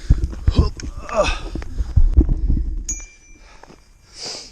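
A single bicycle bell rings sharply, then fades, after a few seconds of close rustling and bumping; another brief ring follows near the end.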